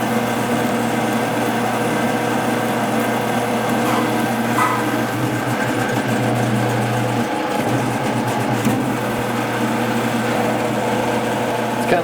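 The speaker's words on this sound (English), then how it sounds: "Kind of scary drilling into a brand new crankshaft, isn't it?" A drill bores into a brand-new engine crankshaft during balancing of a rotating assembly, a steady continuous machining whine and hum running throughout at close range with no break.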